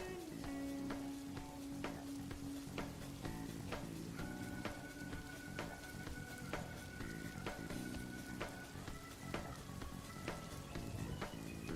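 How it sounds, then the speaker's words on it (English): Rain sound effect playing during a mobile-game livestream: a continuous, even hiss of rainfall layered with soft sustained music tones, steady and fairly quiet throughout. "That's the rain. That's the rain effect. The rainy mood."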